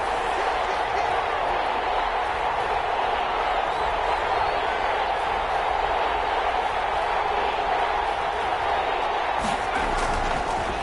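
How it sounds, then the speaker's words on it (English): A simulated stadium crowd in an EA Sports NFL football video game keeps up a steady, continuous roar, with faint bumps and thuds under the wash of noise. "This crowd dying for a stop."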